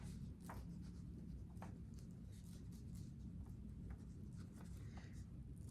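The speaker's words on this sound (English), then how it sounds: "Writing this down." Pen or pencil scratching across paper while something is written down, faint short strokes over a steady low rumble of background noise.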